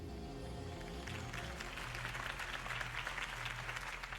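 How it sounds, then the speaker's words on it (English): A crowd in the Batman Telltale game cheers and applauds after Harvey Dent's campaign speech, a soft, distant wash of clapping swelling over a low rumbling musical bed. "If only Mr. Wayne, my campaign's largest backer, could have heard that applause"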